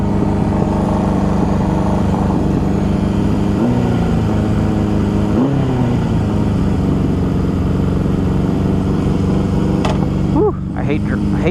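A barn-find Honda CB750 motorcycle, low on fuel on its first ride, runs with a steady mid-pitched engine drone, with a couple of gear changes audible as brief rises and dips in pitch.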